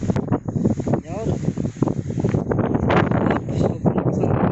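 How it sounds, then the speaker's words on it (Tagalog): Strong gusty wind buffets the microphone on a mountain day hike at Mt Batulao, roaring in uneven bursts and mixing with a voice talking over it. "Sobrang lakas ng hangin."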